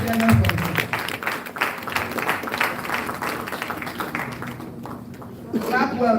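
Applause from the audience at the Nigerian Institute of Advanced Legal Studies founders lecture, a dense patter of clapping that fades a little, with a voice speaking over it.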